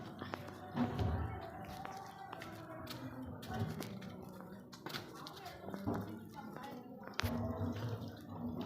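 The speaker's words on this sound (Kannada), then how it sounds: "ನೋಡಿ ಬಿಂದಿಗೆಯಲ್ಲಿ ನೀರು ತುಂಬಿಸ್ತಾ ಇದ್ದಾರೆ" Tap water runs into a brass pot at a roadside pipe beside a drain that supplies a village anganwadi, trickling and splashing steadily under clatter and faint background voices.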